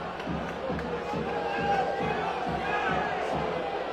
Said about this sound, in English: the Bull supporters booing and jeering